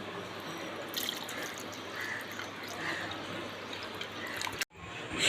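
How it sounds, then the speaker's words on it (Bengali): About a glass of water poured into a blender holding muskmelon and other juice ingredients, a steady close trickling splash that runs for several seconds, then cuts off abruptly near the end. "সব উপকরণগুলো আমি একসাথে ব্লেন্ডারে ঢেলে দিয়ে দিচ্ছি 1 গ্লাসের মতো পানি।"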